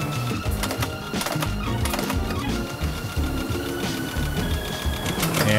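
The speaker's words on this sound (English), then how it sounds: "This is our hooking machine that Ann's putting in one at a time." Hooking machine in a roller skate factory setting lace hooks into skate boots one at a time, producing a rapid rhythmic mechanical chatter and clicking over constant loud factory noise.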